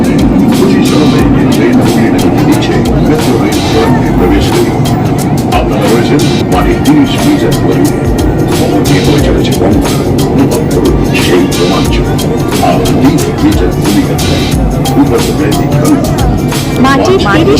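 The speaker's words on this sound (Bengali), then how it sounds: "অদ্ভুত একটা ফিলিংস হচ্ছে যে গঙ্গার তলা দিয়ে মেট্রো করে যাচ্ছি" Interior of a Kolkata underwater metro train running beneath the Ganga river, with a loud, constant rumble and rattle of the moving carriage and a person speaking over it.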